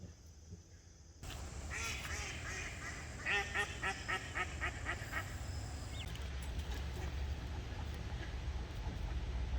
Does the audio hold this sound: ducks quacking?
yes